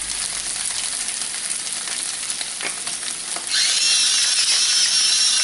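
Fresh corn cut from the cob frying in a pan with salt and pepper, a steady close sizzle with faint stirring scrapes that grows louder and brighter partway through.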